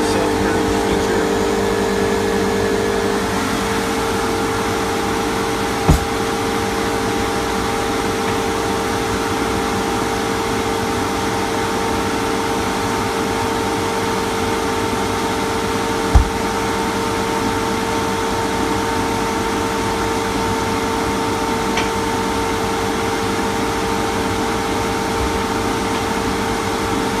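A Fieldpiece MR45 refrigerant recovery machine runs its self-purge with the inlet closed, giving off a loud, steady motor drone with a constant tonal hum and two sharp clicks along the way.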